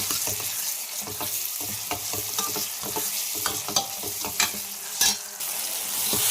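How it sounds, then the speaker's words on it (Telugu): Ginger garlic paste frying in a pan for fish curry, a continuous sizzle with frequent scraping stirs and utensil knocks, close and fairly loud throughout. "పేస్ట్ అయితే పచ్చి వాసన వరకు బాగా ఫ్రై చేసుకున్నాం."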